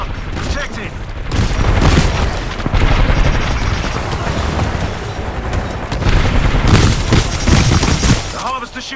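Gunfire in a Titanfall 2 Frontier Defense skirmish on the Homestead map: a dense, loud barrage of shots and booms, heavier in bursts, with in-game voices talking over it.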